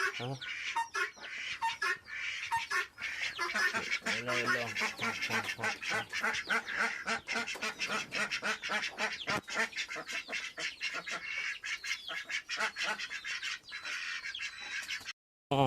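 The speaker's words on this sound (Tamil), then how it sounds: "சின்னி கோழி பாருங்க, அது சேவலை காணான்னு கத்திக்கிட்டே கிடக்குது." A hen calls out repeatedly in loud, insistent clucks and squawks, with other fowl and ducks chattering nearby in a busy, continuous barnyard din.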